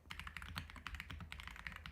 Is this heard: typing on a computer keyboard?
yes